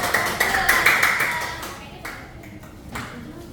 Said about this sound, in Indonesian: Oke, terima kasih kelompok 2. Kasih tepuk tangan.